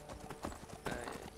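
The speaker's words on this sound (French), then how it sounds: "C'est le cheval de la confrérie noire." Hooves of the Dark Brotherhood horse in the Skyrim video game, a quick run of rhythmic clip-clop footfalls at moderate distance, fairly quiet, with no speech.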